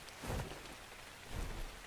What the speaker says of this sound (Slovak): ešte začalo pršať